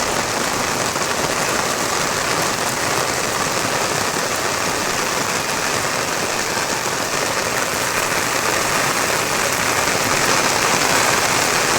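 Heavy rain falls on a farm field, a dense, loud, unbroken roar of pounding drops that holds steady throughout with no voices.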